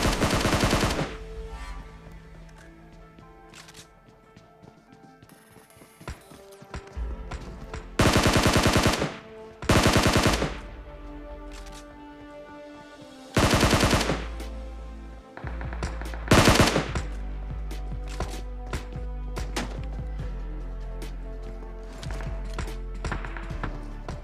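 SCAR-L assault rifle fire in the mobile game PUBG Mobile: loud, close automatic bursts of varying length, with a few heavier sustained volleys around the middle and quieter game ambience between them.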